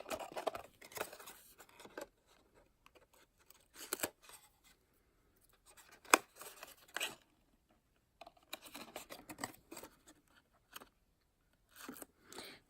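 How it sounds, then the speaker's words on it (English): Tear-off tape backing peeled from a bath bomb box top: faint, scattered crinkles and short papery rips close by, with a sharp snap near the middle and quiet gaps between. "Just going to take the top of the tear and tape off and bring the corners together."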